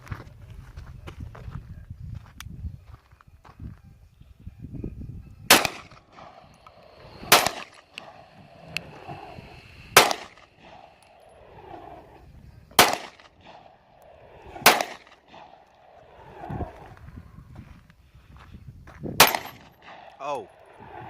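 A pistol loaded with a 7+1 magazine fires six sharp, loud shots spaced a few seconds apart, with quieter shuffling and handling sounds between them.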